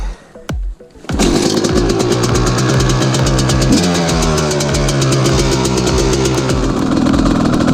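A two-stroke dirt bike engine starts after a brief cough and settles into a loud, buzzy, rapidly pulsing idle that runs on steadily and close up, with a slight rise in revs partway through.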